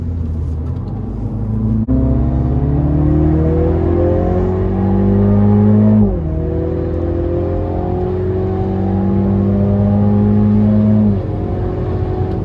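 A MINI GP3 race car laps the Zolder circuit, its engine loud and close, droning steadily and rising in pitch through each gear before sharp drops at the shifts.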